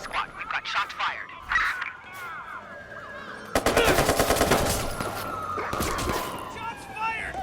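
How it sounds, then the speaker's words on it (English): Rapid automatic gunfire rattles in a video game shootout, a dense sustained burst of shots mixed with a wailing police siren and overlapping game voices calling out. "Squad, we've got shots fired."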